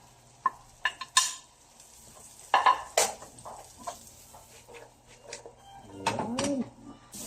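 Onion, carrots and celery clatter and sizzle in a frying pan as a utensil stirs and scrapes in quick irregular bursts, with a louder clanking stir near the end.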